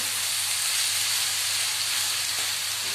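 Onions fry in a pan until crispy, giving a loud, steady, unbroken sizzling hiss close by, with no voices.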